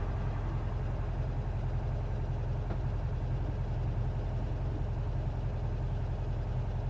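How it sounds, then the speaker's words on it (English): A 1974 VW Bus air-cooled engine idles slightly high, a steady low throbbing hum with no variation, heard close and alone without any talking. "Gotta drop the idle some."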